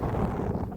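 Wind gusting across an open microphone on a monsoon-season rural ride near Bheemeshwari, Karnataka, a steady low rumbling buffet that stays loud and continuous throughout.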